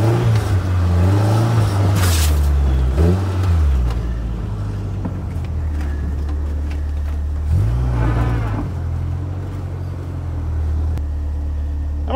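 A 1931 Ford Model A coupe hot rod driving through snow at 14 degrees, its engine droning steadily from inside the cabin with a few throttle swells and revs rising and falling, loud and close.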